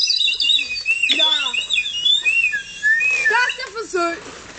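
A person whistles a melody, bright sliding tones rising and falling in short phrases with brief breaks, loud and close.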